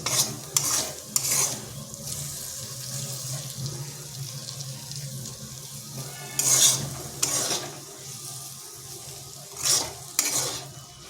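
Vegetables stirred in a pan for a crispy home-made afternoon snack with egg, giving a soft steady sizzle under scraping stirs and a few louder clanks and splashy scrapes, with no talking.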